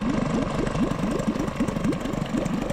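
A boat outboard motor idles at low RPM with a steady, close, rhythmic chugging pulse, the engine suspected of a cooling impeller problem.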